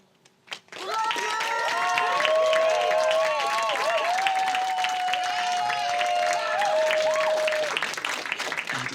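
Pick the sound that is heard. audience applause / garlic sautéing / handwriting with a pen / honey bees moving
audience applause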